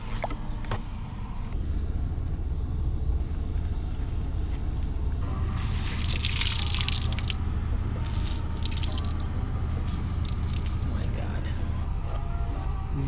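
Floodwater trickles and drips steadily as it drains from behind the seat of a Mazda MX-5 Miata ND soft top, with splashy gushes midway, while a low hum runs underneath and a voice talks at times.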